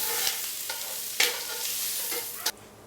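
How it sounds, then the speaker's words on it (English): Chopped vegetables sizzle steadily in a hot pan for a low-carb quiche, a close, continuous hiss broken by a few sharp clinks and stirring scrapes. "So now I'm going to dump these into my pan."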